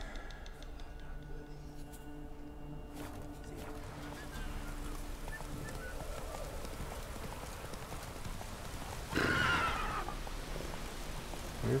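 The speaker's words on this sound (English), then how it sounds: "Horse." A horse whinnies sharply near the end, over a steady bed of ambient game sounds and faint hoofbeats in The Witcher 3.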